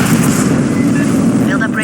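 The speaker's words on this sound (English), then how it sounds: "Have a grenade." Grenade blast in the video game Aliens Fireteam Elite, a loud, dense rumbling explosion that sustains at full strength rather than fading quickly.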